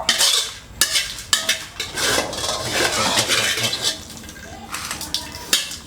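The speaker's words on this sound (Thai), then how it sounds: "ตรงนี้เดี๋ยวจะขอเวลาคั่วสักครู่หนึ่งนะครับ" Chilies are dry-roasted in a pan for pork chili paste, with repeated metallic scraping and clattering strokes of a spatula against the pan coming close and loud at an uneven rhythm.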